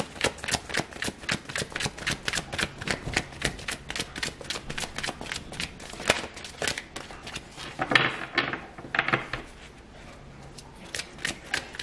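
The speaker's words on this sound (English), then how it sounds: "I'm going to pull a romance angel card, Earth Signs" Romance angel oracle cards being shuffled and drawn, a dense run of quick crisp riffling flicks up close, with a brief lull and a few softer slides near the end.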